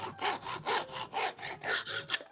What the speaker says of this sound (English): let's say I need to cut a strip of wood